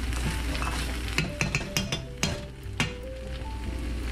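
Rice is stirred in a pot over a continuous sizzle, with several sharp scraping and knocking strokes of a utensil against the pot in an uneven rhythm, close by, with no talking.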